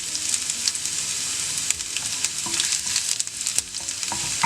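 Ginger sizzles and crackles in hot oil while a spoon stirs and scrapes through it for garlic pickle, a steady close frying hiss with scattered sharper pops and clinks, no voices.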